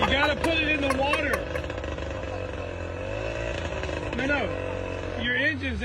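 A boat's outboard engine runs with its propeller out of the water, a steady buzzing drone throughout with brief revving rises near the start and end, while people talk loudly over it.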